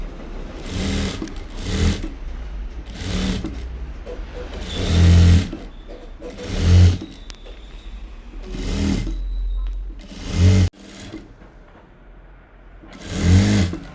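A sewing machine stitching fabric whirs in repeated short bursts, each a rapid mechanical chatter separated by brief pauses, close and fairly loud with faint background sounds between runs.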